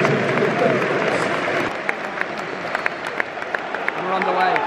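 A football stadium crowd at a Chelsea versus Tottenham match applauds in tribute, a broad sustained wash of clapping with a few sharper claps standing out and a faint voice rising near the end.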